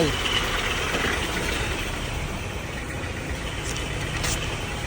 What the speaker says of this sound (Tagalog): Lumalagatak na yung makina